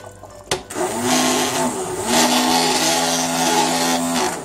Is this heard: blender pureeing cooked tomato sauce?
yes